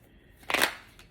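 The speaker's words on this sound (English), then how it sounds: "we're gonna go ahead and get you some card shuffle here." Tarot cards are shuffled during a Sagittarius reading, giving one short, crisp riffle of about a quarter second that stands out against a quiet room, with no one speaking.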